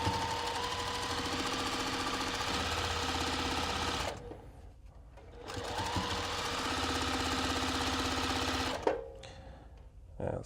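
A sewing machine stitches a churn dash quilt block, its rapid mechanical whir running in long bursts with two brief pauses between them, close and steady, while a voice speaks quietly over it.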